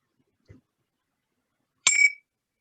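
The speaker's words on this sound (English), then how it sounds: "a beautiful chime to ring Unschooled into session today" A single bright chime rung once in a quiet room, a clean metallic ring that decays over a fraction of a second, preceded by a faint soft tap.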